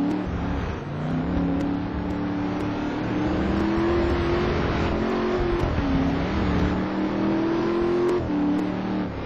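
Race cars roar through the chicane at the Nürburgring during a round of the ETC Black Cup, their engines droning loud and steady with rising and falling revs throughout.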